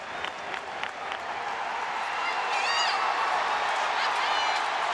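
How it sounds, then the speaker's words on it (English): A stadium crowd at Shea Stadium cheers after the final out of a baseball game, a steady, distant roar of voices and applause that swells slightly and holds. "You hear the cheer? You know what that is? That's the final out at Shea Stadium."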